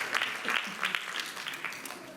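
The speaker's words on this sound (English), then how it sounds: "Can we have a little round of applause for Shanti then?" An audience at a Swami birthday celebration in Leeds gives a short round of applause, quiet and somewhat distant, with a scatter of claps rising and fading.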